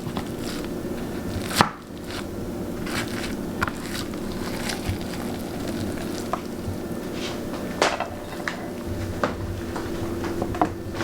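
A knife cuts into a leftover bread breakfast casserole, making scattered close thuds and crunchy scraping taps against a dish, one sharp knock near the start, with no talking.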